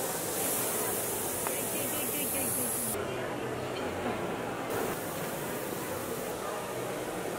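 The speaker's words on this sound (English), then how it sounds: "I thought it was just spraying water over the plants." A misting system sprays water over tropical plants in a rooftop garden high above London, giving a steady, even hiss that fills the whole stretch.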